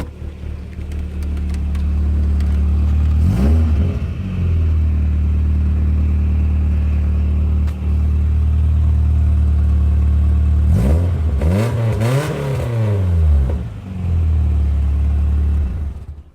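A loud car engine, fitted with an aluminum radiator, idles with a deep, steady rumble, broken by a quick rev early on and a longer double rev near the end.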